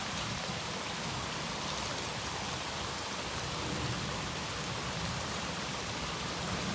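Steady rain falls by a river after a few hours of rainfall, a dense, continuous hiss of drops on water and surfaces, broadband and unbroken throughout with no voices.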